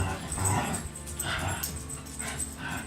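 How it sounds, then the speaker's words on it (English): A hurt dog whimpers and yelps in a game, several short high cries repeating in bursts, moderately distant and fairly quiet over a faint background. "Poor dog somewhere got hurt."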